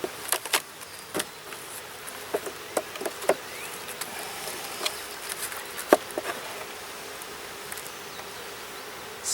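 Honey bees buzz faintly around a hive that did not survive the winter, opened while it is being readied for summer, with scattered soft taps and clicks of handling over a low, steady hum.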